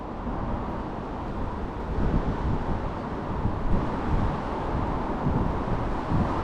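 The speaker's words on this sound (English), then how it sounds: "Oof, that wind." Steady wind buffets the microphone beside the River Irwell in Manchester during a fishing session, a continuous low rumbling roar with gusty surges, no speech over it.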